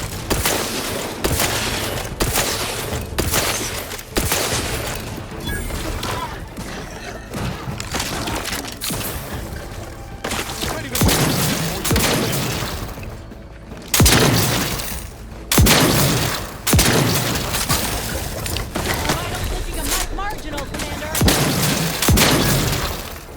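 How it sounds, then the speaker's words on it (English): Video-game gunfire in Outer Worlds 2 is heard as dense, loud, sustained volleys of shots and booms during a fight with a colossus, broken by a few brief gaps. "What are you shooting at?"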